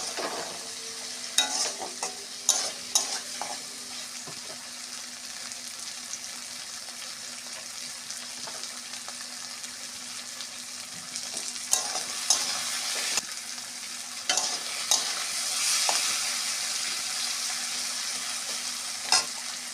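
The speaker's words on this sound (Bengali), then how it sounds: "আলু ভাজা ভাজা হয়ে এসেছে কিছুটা" Potatoes sizzle in a pan with leafy greens, a soft continuous frying hiss broken by scraping and clattering strokes of a spoon as they are stirred, fairly quiet and close.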